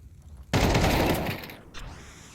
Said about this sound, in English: Just two bullets connected. It sounded like 10 were fired.